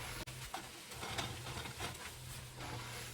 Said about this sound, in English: Now I'm going to add my 2 cups of rice. Stir it around and cook it just about a minute.